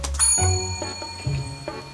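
A small bright bell rings out several times in irregular succession, each clear metallic ding ringing on and decaying before the next strike, close and fairly loud.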